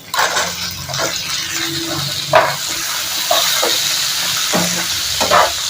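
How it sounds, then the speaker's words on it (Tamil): Sliced onion and dried red chillies fry loudly in a pan for a chutney, a continuous close sizzle and hiss broken by several sharp clinks and scrapes of stirring. "இப்போ ஒரு பெரிய வெங்காயம் கட் பண்ணி வச்சிருக்கேன் அதையும் போட்டுக்கிறேன்"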